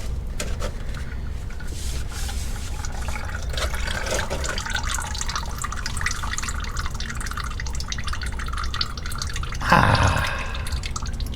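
Transfer case fluid from a Jeep Grand Cherokee SRT drains in a steady trickle, close and continuous, with a brief louder splash near the end and no talk.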